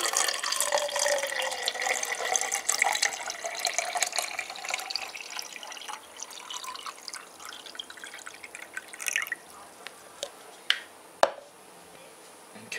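Water pouring into a tin, a bright splashing, trickling flow that gradually quiets and gives way to a few scattered drips and light taps, close by, with no talking.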